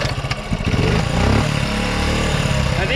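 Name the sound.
1984 Honda Z50 minibike engine kick-started and running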